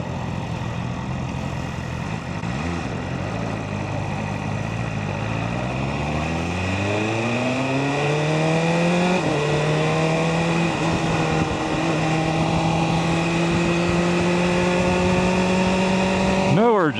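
A 2024 BMW M1000RR superbike engine revs up through the gears with a rising, harmonic exhaust howl, loud and close, settling into a steady drone with only small popping from the exhaust; wind roar throughout.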